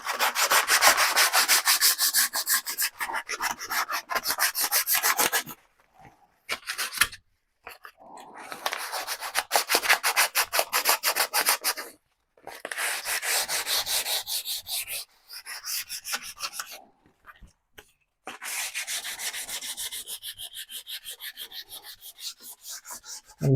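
Sandpaper of 240 grit rubs back and forth along a carved wooden guitar neck in close, rhythmic strokes, with bursts of sanding broken by short silent pauses.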